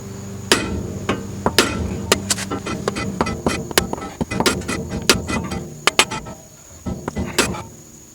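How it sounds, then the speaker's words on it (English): A hammer strikes a tie rod pressed into the spindle of a Volvo 850, S70 or V70, giving a series of sharp metallic bangs at an irregular pace, some loud and ringing, others lighter taps, with small clinks between. "I'm going to thread this back in a few turns and then hit it with a hammer."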